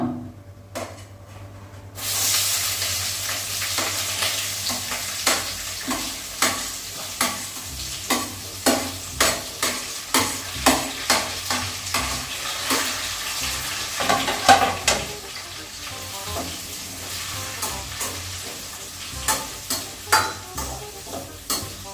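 Onions sizzle and crackle in a hot pan while a spoon repeatedly scrapes and stirs, producing rhythmic clacks over the steady frying hiss.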